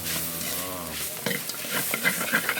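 Ingredients for a Thai jungle curry are stir-fried in a pan, a steady sizzle with scraping stir strokes, opening with a brief low hum before clattering, crackling frying takes over.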